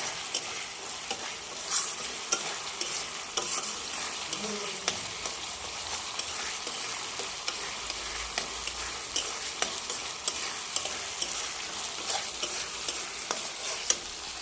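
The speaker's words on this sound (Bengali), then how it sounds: "এই যে ভালোভাবে কষাচ্ছে" Masala for raw banana kofta sizzles and is stirred in a pan, with a steady broadband fry and faint scraping of the spatula throughout, close and continuous with no talk.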